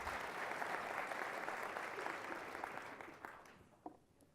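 Audience at a State of the County address breaking into applause, a dense wash of clapping that starts full and gradually thins out, with a few last claps at the end.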